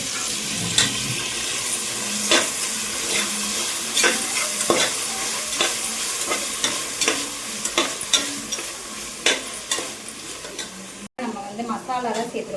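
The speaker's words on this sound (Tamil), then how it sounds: "மசாலாலாம் சேர்த்துருக்கோம். என்னென்ன மசாலான்னு பார்த்தீங்கன்னா, மஞ்சத்தூள், மிளகாத்தூள், பிரியாணி மசாலா, கொஞ்சம் சிக்கன் மசாலா சேர்த்துருக்கோம். ஓகேங்களா? சேர்த்து நல்லா வதக்கிக்கிறோம்." Chicken biryani masala of turmeric, chilli powder and biryani and chicken masala with tomato sizzling and frying in a pan, steady close sizzle broken by repeated scraping stirs and clinks of a spoon against the pan.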